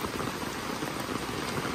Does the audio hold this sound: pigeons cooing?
no